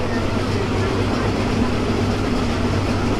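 A crowded passenger train runs through Bangladesh on the Dhaka to Panchagarh line, heard from inside as a loud, steady rolling rumble and rattle with voices murmuring underneath.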